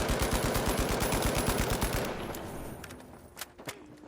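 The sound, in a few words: gunfire at a training dummy in a video game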